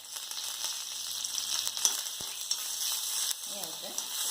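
Curry leaves hiss and crackle in hot oil for a coconut chutney to go with dosa and idli, a close, steady sizzle with scattered pops and a brief clatter near the end.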